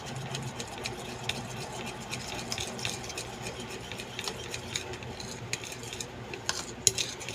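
A utensil stirs a homemade snack mixture in a pan, making continuous scraping and clinking, with soft metallic taps, under steady kitchen background noise.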